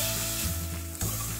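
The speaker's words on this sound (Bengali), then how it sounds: "এবার এর মধ্যে আমি ভেজে রাখা সমস্ত সবজি দিয়ে দিচ্ছি। মশলার সাথে খুব ভালো মতো করে মিশিয়ে নিচ্ছি।" Already-fried vegetables tipped into spices in a pan and mixed, loud continuous sizzling with stirring scrapes and a brief break near the end.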